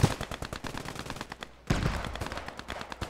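Rapid automatic gunfire in a multiplayer squad-based shooter game, dense overlapping bursts of shots with a brief lull midway, then another volley.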